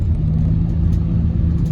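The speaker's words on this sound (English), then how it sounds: "So getting on the freeway now." A Nissan NV2500 High Roof van merges onto a freeway, its engine and road noise forming a steady, loud, low rumble heard from inside the cab with no voices.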